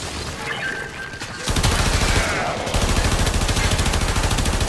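Heavy automatic gunfire in Warframe during the Limbo Theorem quest, starting quieter then jumping to a loud, rapid stream of shots that pauses briefly and resumes, fast rhythmic reports close up.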